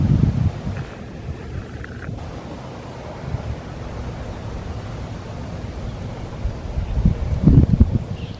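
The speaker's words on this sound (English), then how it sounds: "It's been windy." Wind gusts buffet and rumble through a spring garden, swelling loudly at the start and again near the end, with a steady rushing bed between.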